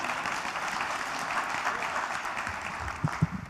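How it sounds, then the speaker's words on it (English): Steady applause from an audience at a Toastmasters-style talk event, a moderate even wash of clapping with a few louder individual claps near the end. "Round of applause."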